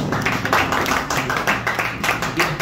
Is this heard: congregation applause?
yes